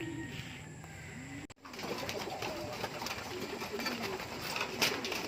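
Pigeons coo softly in a loft at feeding time, low repeated murmuring calls mixed with rustling and a faint voice in the background.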